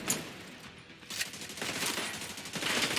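Video game gunfire cracks in a few quick bursts over a steady background hiss, the shots mid-loud and closely spaced across a few seconds.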